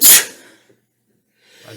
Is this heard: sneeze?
yes